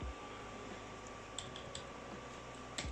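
Quiet keystrokes on a Dell Vostro computer keyboard, a few scattered clicks over a steady background hum with no talking.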